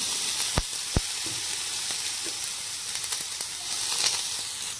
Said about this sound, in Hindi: पियाज को गोल्डन ब्राउन कलर होला जाय फ्राई करबा